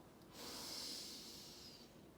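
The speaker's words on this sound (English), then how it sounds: "Breathe in for 4 and out for 16." A single slow, airy breath during a guided meditation, a soft hissing exhale swelling and fading over about two seconds, close and quiet with no talking.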